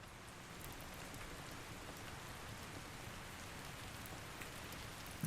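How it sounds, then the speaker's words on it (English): Steady rain in the video game ARK falls without pause, a soft, even hiss of drops on surfaces, fairly quiet and unbroken. "It's raining."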